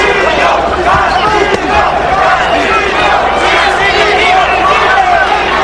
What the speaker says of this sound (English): the chant Castillo, Castillo is a bit half-hearted down the stretch of the 11th